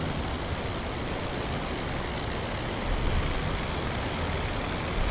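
An old engine runs rough because its air-fuel mixture is out of adjustment. It gives a steady, low, grumbling rumble with a broad noisy roar throughout, swelling slightly louder toward the end, with no voices.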